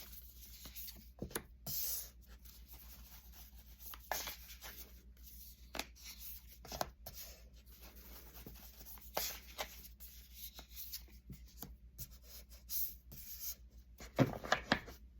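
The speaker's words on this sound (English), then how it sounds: "So I'm just pulling here some tarot cards." Tarot cards being pulled and handled, giving soft rubbing, sliding and flicking sounds in quiet, close irregular bursts with a brief rustle near the end.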